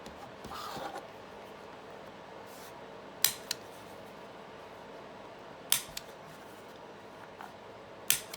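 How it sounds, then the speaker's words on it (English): Sharp clicks of a corner punch rounding the corners of a greeting card, a few separate snaps spaced apart over quiet room tone, close and crisp. "I'm going to round the corners"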